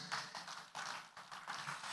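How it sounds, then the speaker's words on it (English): Applause from the audience at a business summit in Ghana, three short bursts of dense clapping from a large room, fairly faint and distant. "Please, another round of applause."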